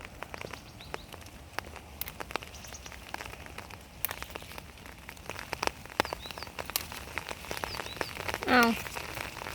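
Light rain patters steadily with scattered drops ticking on nearby surfaces, quiet and close, with a brief croaking call near the end.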